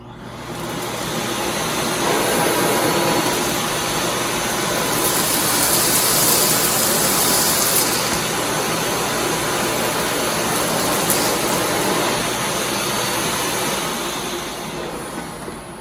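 A Miele Classic C1 Pure Suction Powerline canister vacuum cleaner picks up dirt from carpet with a loud, continuous roar and rushing airflow. It is heard close up, swelling as the nozzle drags, and it stays steady throughout with no talk.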